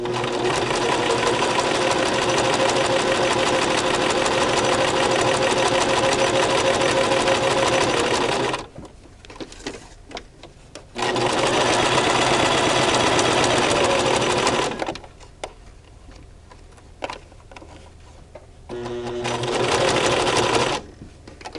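A Brother LX3014 sewing machine stitching a five-layer face mask runs in loud, steady mechanical bursts of several seconds each, pausing between runs with quieter handling and fabric noises.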